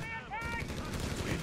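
Rifle gunfire in the World War II strategy game Company of Heroes 3, with US rifles firing on German Grenadiers: a dense, noisy burst of shots after a brief voice, continuing steadily to the end.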